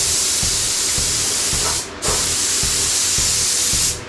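Compressed air hisses steadily from a hose close by, a loud broadband rush that cuts out briefly twice, with faint rhythmic mechanical ticking underneath and no voices.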